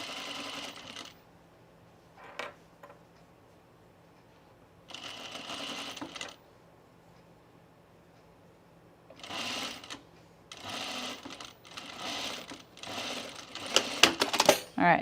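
A sewing machine stitching soft, spongy double gauze fabric for a sleeveless pin tuck top, running in several short bursts of rapid mechanical whirring separated by quiet pauses, with a few clinks near the end.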